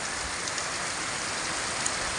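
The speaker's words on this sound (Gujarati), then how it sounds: "જોઈ લ્યો આ વરસાદ ભાવાભી ખીજડીયા" Steady village rain in Bhavabhi Khijadiya falls in a dense, even hiss of countless drops on the ground, continuous and unbroken, with no voices.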